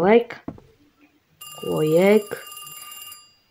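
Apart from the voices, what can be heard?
telephone ringing in The Pizza indie horror video game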